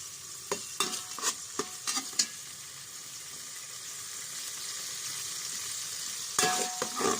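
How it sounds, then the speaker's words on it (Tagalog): Tomatoes stirred in a pan while they cook for pork rib biryani. A steady, quiet sizzle runs under intermittent scraping strokes, clustered early and again at the end, with no talking. "Halo-haloin natin, mga kakusin, hanggang medyo maluto ang kamatis"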